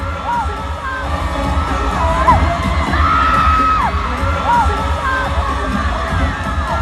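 A large concert crowd of fans screams and cheers in a dense, loud, sustained roar as water is sprayed across the idol stage, with shrill whoops and yells rising above the mass.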